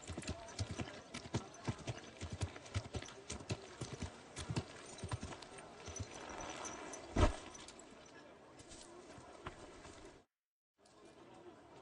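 Rhythmic clip-clop of horse hooves walking at a steady pace in Kingdom Come: Deliverance II, close by, with a brief snort and light ambient noise, ending in a short silence.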